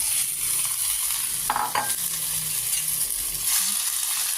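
Squid fries in a pan with a steady close sizzle, broken by a couple of brief metallic clinks of a utensil near the middle.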